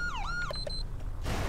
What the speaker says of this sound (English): I do have to get used to using some sirens